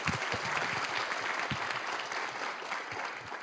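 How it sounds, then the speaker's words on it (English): Audience applause for the judges at an IT projects competition final, a dense, steady wash of many hands clapping, loud and close, with no talking. "So one big applause for them again."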